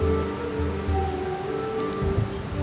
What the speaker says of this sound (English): As he stood watching the rain fall, Finnigan noticed a slight movement